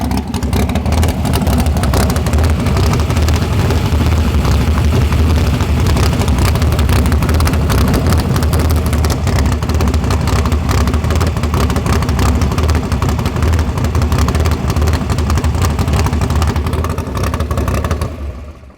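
A big-block car engine runs loud and steady at close range, a dense rumbling idle with a constant heavy low end and no clear revs, holding for almost the whole stretch before cutting off near the end.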